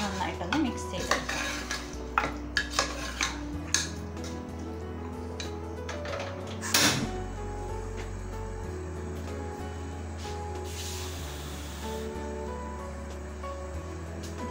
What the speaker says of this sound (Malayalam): ഇനി നമുക്കിതിലേക്ക് കോളിഫ്ലവർ ചേർത്ത് കൊടുക്കാം. ഇതിനെ നമുക്കൊന്ന് നന്നായിട്ടൊന്ന് മിക്സ് ചെയ്തെടുക്കാം